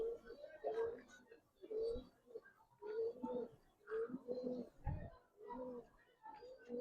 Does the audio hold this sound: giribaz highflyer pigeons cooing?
yes